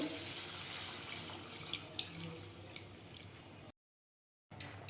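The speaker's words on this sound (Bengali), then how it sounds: "এখন আমি দিয়ে দিব অল্প জল" Water poured from a tap or vessel into a pot of potato curry (vegetarian aloo dum) in a home kitchen, a steady close splashing stream that cuts off abruptly near the end.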